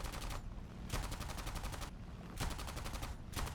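Aircraft machine guns in War Thunder fire in three sustained rapid bursts separated by short pauses, loud and close with no talk.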